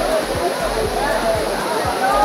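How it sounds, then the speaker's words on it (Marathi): Bhivpuri waterfall near Karjat roars steadily in a broad, constant rush of falling water, with people bathing beneath it and faint voices in the background. "आता आपण आलो इथल्या मेन लोकेशनला, म्हणजेच मेन वॉटरफॉलला"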